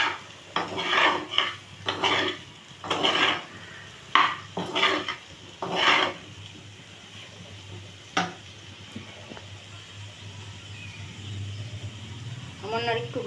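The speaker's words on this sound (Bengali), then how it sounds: "এখন গ্যাসটা কমিয়ে ভেজে নেবেন ভালো করে মশলাটা।" A spoon scrapes and clatters against a pan in a rhythmic run of stirring strokes while spice masala fries over low gas, followed by a softer steady sizzle; a voice talks throughout.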